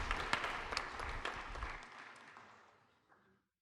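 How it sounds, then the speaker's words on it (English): A meeting audience gives a round of applause, brisk clapping from a modest group with a few sharp individual claps, fading out over the last couple of seconds. "Big round of applause."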